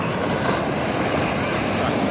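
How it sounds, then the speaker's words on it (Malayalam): Ocean waves break and wash continuously on Chavakkad beach in Kerala, a steady broadband surf roar with wind noise, close and fairly loud. "തിരമാലകൾ വീണ്ടും ഇങ്ങനെ വന്നുകൊണ്ടിരിക്കുകയാണ്"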